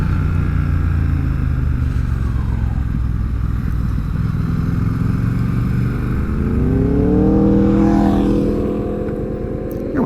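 Engine noise on the winding Tail of the Dragon road, a car following close behind a Triumph Speed Twin motorcycle, steady rumble rising as revs climb and sweep upward near the end.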